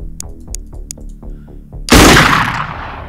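Gunfire from the tactical game Xenonauts 2: about six sharp, evenly spaced rifle shots, then a much louder blast with a crashing burst that slowly fades, all close and loud with no talking.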